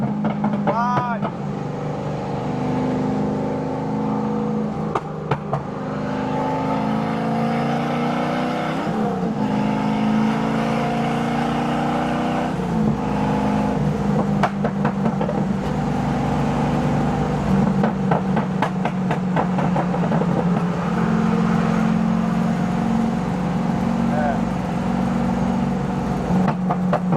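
An LS V8-swapped BMW E46 idles and revs with a deep, rumbling exhaust, steady and loud throughout, with popping burbles, rising rev sweeps and a few sharp crackles over continuous low engine drone while people talk nearby.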